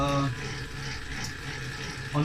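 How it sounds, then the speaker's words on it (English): Water running into a metal dough mixer bowl to rinse off stuck salt and malt while making a 100% biga pizza dough, a steady broadband wash with brief voiced sounds at the start and end. "sometimes I use just the water to clean it"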